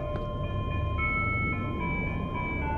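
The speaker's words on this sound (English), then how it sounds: "Is this the sound that crosswalks make in Japan?" Electronic chiming tones of a Japanese crosswalk signal in a horror video game, a repeating melodic beep pattern over a low steady background rumble, with no voices.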